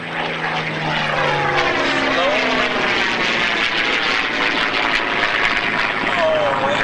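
P-51 warbird propeller airplane flying at the 2016 Cleveland Airshow, a loud sustained engine roar with shifting pitch as it passes, steady throughout the clip.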